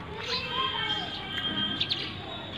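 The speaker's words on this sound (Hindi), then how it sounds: "देखिए चिड़िया पानी पी रही है" Small birds chirp in bright short tweets around a water spot, several quick calls scattered over a faint background with soft mixed voices.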